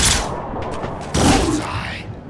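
A single sharp gunshot from Bormin's twitch shot in Mutant Year Zero cracks loudly midway through, preceded by a softer muffled shot and followed by lingering game ambience, with some voice underneath.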